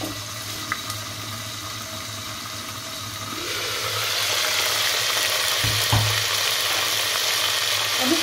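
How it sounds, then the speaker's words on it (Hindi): Hot oil sizzling and splattering in a covered pot while cooking chana pulao, quiet at first and then swelling into a steady, loud hiss with a few sharp pops. "देखिए अभी भी छींटे हैं इसके"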